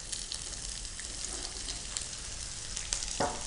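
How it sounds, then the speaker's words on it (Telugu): Chopped onions fry in hot oil with tempering spices in a pan, a close, steady crackling sizzle with a brief scrape of stirring near the end, no talk. "ఆయిల్, పోపు దినుసులు వేసుకున్నాక ఆనియన్స్ కూడా యాడ్ చేసుకొని కొంచెం ఫ్రై అవ్వాలి"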